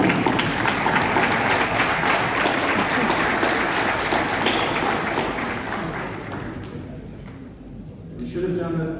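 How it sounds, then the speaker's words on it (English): Audience at an awards ceremony bursts into sustained, dense clapping that holds steady for several seconds, then thins and fades, with a voice coming back in near the end. "I was ready to clap for the CD, but no one else clapped, so we can do that now"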